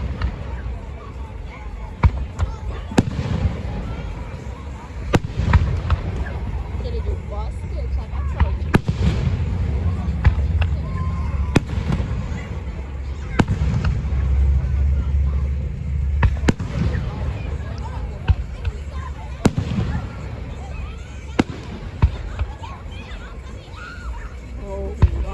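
Juneteenth fireworks go off in repeated sharp bangs and pops at irregular intervals over a low background rumble, with faint voices nearby.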